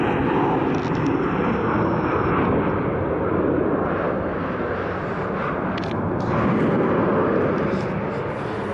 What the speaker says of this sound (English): Oh, that is a nice smooth landing.